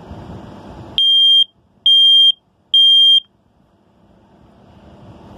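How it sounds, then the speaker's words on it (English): Kidde ionization smoke detector sounding a test alarm: three loud, piercing electronic beeps of equal length, evenly spaced about a second apart, close by, with a quiet room before and after. "it's an ionization smoke detector"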